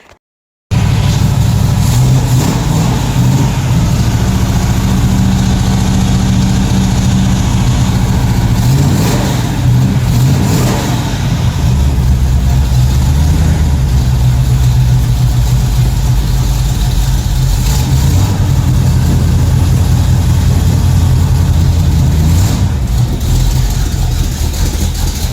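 An old Pontiac car engine that has sat for a while cranks and fires, then settles into a loud, continuous rumbling idle with slight rises and dips in pitch, close and alone.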